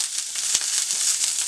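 Food sautéing in hot oil in a pan, a steady close hissing sizzle with a few faint pops, heard alone for a brief moment.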